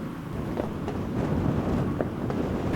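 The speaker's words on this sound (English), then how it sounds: "It's so freaking windy out here." Heavy wind roars and buffets the microphone in a continuous low rumble outdoors, with occasional brief rustles.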